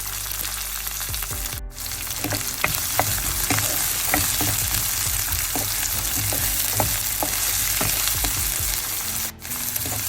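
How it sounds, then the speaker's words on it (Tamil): Curry leaves, chopped onion and green chillies frying in hot oil for a carrot and chilli milk curry: a loud, continuous crackling sizzle with frequent close stirring scrapes and taps against the pan, and no talking. "அதோட கருவேப்பிலை வெங்காயம் ரெண்டு பச்சை மிளகாய் வெட்டி வச்சுருக்கோம் அதையும் சேர்ப்போம்"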